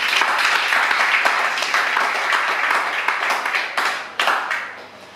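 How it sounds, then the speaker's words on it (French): Applause at a graduation ceremony honouring the class's godparents: a dense, steady wash of many hands clapping close by, thinning out with a few scattered claps and a brief swell near the end. "Je vous demande d'applaudir, mesdames et messieurs."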